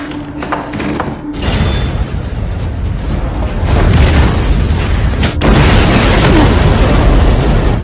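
A bomb goes off inside a prison courtroom in a mafia film: a sudden loud boom gives way to a thick rumbling roar, then a second blast hits a few seconds later and keeps rumbling.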